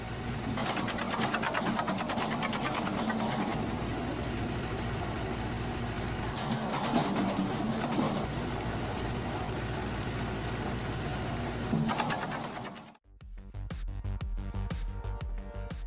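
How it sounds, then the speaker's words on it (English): A homemade automatic firewood splitting machine runs continuously with a loud mechanical rattle and engine drone, a brief cut near the end before the clattering machinery resumes. "this splitting machine has been designed to operate efficiently"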